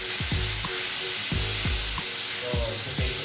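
Beef strips sauté in a hot pan with garlic and onion, giving a steady, close sizzle that runs unbroken with a few low, rhythmic thumps from stirring.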